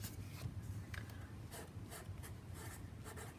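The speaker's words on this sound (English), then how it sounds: "So I'm going to write that word right here." A pencil writes a word on paper, producing faint, close scratching strokes in short bursts over a soft, steady background hiss.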